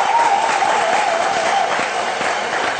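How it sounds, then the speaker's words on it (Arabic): Audience at a live show applauding warmly, a dense continuous roar of many hands, loud and steady throughout with a faint tonal sound drifting above it. "تصفيق حار، تصفيق حار، تصفيق حار."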